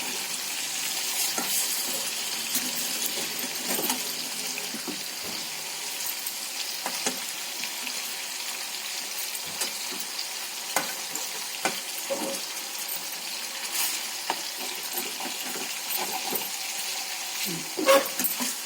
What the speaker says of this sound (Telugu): చేపలు వేగాయండి, లైట్గా, ఎక్కువగా కాదు, కొంచెం వేగాయి.